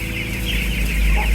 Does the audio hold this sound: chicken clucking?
yes